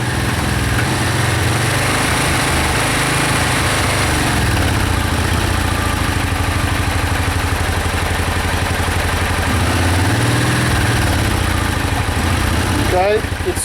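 Close by, a Suzuki VX800 motorcycle engine runs on choke, idling with an uneven, struggling rhythm that never settles, loud and steady throughout.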